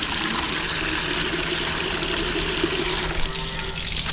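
Water pours steadily into a bucket for a calf on a calf-raising farm, a continuous close gush-and-trickle with no break.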